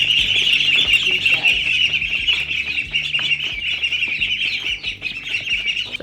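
Young birds in a brooder on a homestead chirp loudly and constantly in a dense, shrill chorus. Low clunks and shuffling from cleaning sit beneath the calls.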